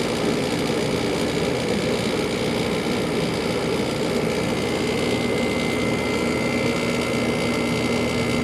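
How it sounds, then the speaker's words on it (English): A rattly garage air conditioner compressor runs with a dense, steady mechanical drone and buzzing rattle, loud and constant throughout, with no talking. "Really rattly compressor when it first fires."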